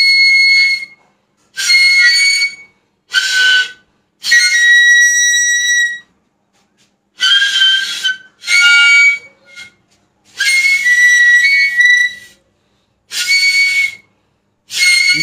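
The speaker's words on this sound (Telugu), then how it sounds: "ఇప్పుడు మనము క్రౌడ్ క్యాప్కి బిగించిన బెలూన్ రబ్బర్ మీదకి నోటి ద్వారా గాలిని" A homemade whistle made from a crown bottle cap with balloon rubber stretched over it, blown by mouth, gives about ten shrill, harmonic-rich blasts of varying length and pitch, loud and close, separated by short silences.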